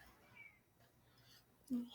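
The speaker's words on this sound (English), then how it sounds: "Our cat wants to join." A house cat gives a brief meow near the end, loud and close, after a stretch of quiet room tone with faint background talk.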